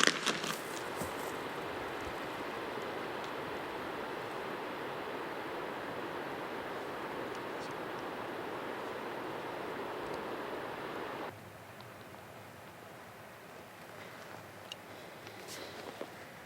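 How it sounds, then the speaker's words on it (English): A big creek flows through a Pacific Northwest mountain basin, a soft, steady rushing hiss of water that drops to a quieter level partway through. "it's a pretty big creek down here"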